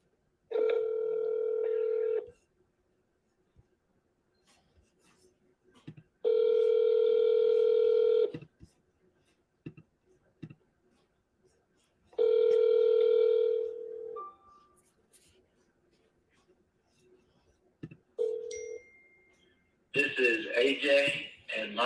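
A telephone line gives a steady dial tone in several long, evenly spaced bursts with silence between them, then quick dialing tones near the end, alongside someone talking on a seller-calling session.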